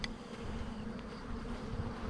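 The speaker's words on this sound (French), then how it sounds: "On peut voir des petites abeilles qui sont en train de cirer le cadre" Honeybees buzz at an opened hive as a frame of comb is lifted out, a soft, continuous close-up hum of many insects with no talking.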